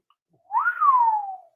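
A person gives a single whistle, a clear tone that rises quickly and then glides slowly downward, close and alone against silence for about a second.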